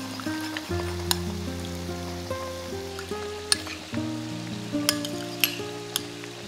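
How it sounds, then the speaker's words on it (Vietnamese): Steady sizzling of butter melting in hot oil in a pan with occasional sharp pops and a faint stirring clink, under a low background hum. "Lấy một ít bơ cho vào chút dầu nóng và khuấy tan."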